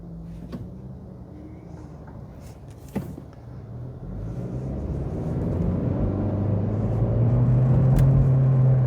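An Acura Integra with a CVT transmission drives along, its engine drone and road rumble swelling gradually from quiet to a steady, louder hum, with a couple of faint clicks early on.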